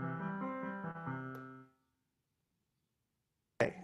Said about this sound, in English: I'll just do an arpeggio.